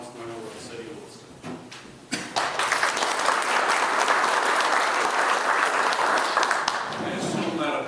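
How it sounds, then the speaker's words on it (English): Audience applause at a public event, a few scattered claps swelling into sustained, dense clapping from a crowd that holds steady for several seconds, with some voices underneath. "I assume that applause is for Ron"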